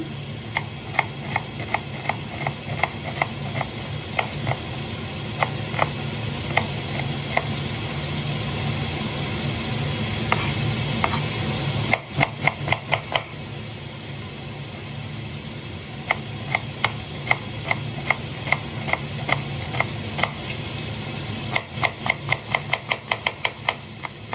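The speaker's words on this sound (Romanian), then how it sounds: "îmi tai ceapa maron" Knife chopping brown onions on a cutting board, a steady series of quick, crisp taps in irregular runs over a low background hum, close and fairly quiet.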